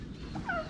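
Short turkey gobbles, a couple of warbling calls close by over a noisy low rumble.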